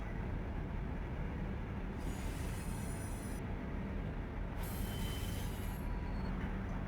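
Steady low rumble of a heavy freight train descending Cajon Pass in the Run 8 simulator under dynamic braking, with a continuous roar and brief bursts of high hiss, no talk.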